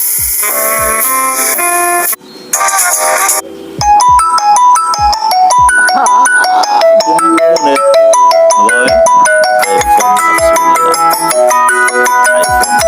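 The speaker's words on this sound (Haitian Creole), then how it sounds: "ça est sonnerie du téléphone" An electronic phone ringtone chosen in Android sound settings plays loudly as a bright, repeating melodic pattern, with a brief break near the start before the tune resumes and runs on steadily, no talking.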